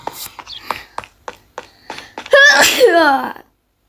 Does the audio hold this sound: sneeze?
yes